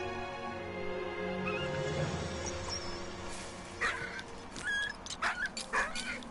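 A dog whimpering and yipping in the video game Valiant Hearts, with several short high whines and yelps toward the end, moderately close, over low game ambience, with no talk.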